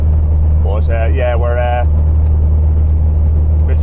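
A Volkswagen Beetle's engine hums steadily with a low drone throughout while it is driven, with a person speaking briefly over it near the start.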